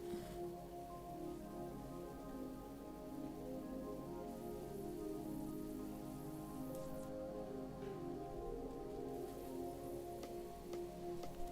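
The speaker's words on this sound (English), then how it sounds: "It's raining outside." Rain falls outside as a soft, continuous hiss of drops on surfaces, faint and distant, with no thunder or voices.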